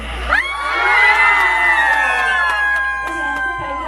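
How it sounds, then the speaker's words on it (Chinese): A concert audience at an outdoor Taiwanese-song night during a Jiaoxi, Yilan hot-spring festival erupts in loud, sustained cheering and screaming that swells and holds for several seconds. "再给副台一个热情的尖叫声"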